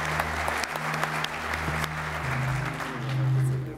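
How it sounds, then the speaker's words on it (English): Audience at a motorsport hall of fame induction ceremony claps steadily throughout, a broad wash of applause in a hall with a low hum running underneath. "let's give him an applause for sure"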